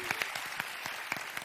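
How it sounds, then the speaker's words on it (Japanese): Sparse, scattered handclaps from a small audience at a daytime orientation event, a few isolated claps spaced irregularly and fairly faint. "なんでこんな拍手が少ないんでしょうか"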